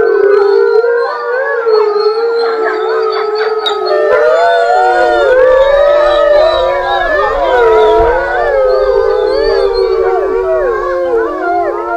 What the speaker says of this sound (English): the rest of the pack is really howling more because their leader is gone